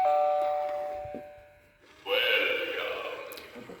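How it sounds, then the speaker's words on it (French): A Halloween doorbell chimes loudly in two bursts, the first a ringing tone that fades out and the second a brighter, fuller melody after a brief pause, with no one speaking. "cette sonnette, je l'aime d'amour"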